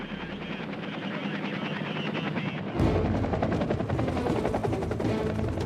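A Vietnam War–era military helicopter beats steadily at a fair distance, its rotor chop growing louder and closer partway through, with a rapid rattling pulse.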